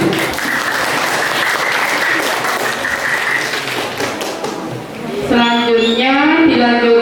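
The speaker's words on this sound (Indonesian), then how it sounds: "Tepuk tangan." An audience applauds at a madrasah student council candidate debate, with dense clapping for about four seconds that then gives way to a voice speaking.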